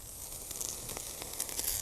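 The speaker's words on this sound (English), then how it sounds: "And that means the tea's done. Look at that. It's boiling over." Tea boiling over from a pot onto a campfire, a faint crackling hiss of sizzling liquid with soft sputters and pops, steady and close, no voices.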